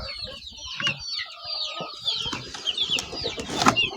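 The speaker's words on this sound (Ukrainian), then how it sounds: "А це курчата" Lohmann White chickens cluck and chirp busily together at close range, a steady chatter of overlapping calls with a few louder squawks near the end.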